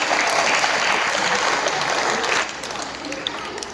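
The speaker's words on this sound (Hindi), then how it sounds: "एक बार जोरदार तालियां हो जाए मंच पर सभी उपस्थित कवियों के लिए।" Strong applause from an audience at a school poetry recitation competition, a dense roar of clapping that holds steady and then thins out toward the end.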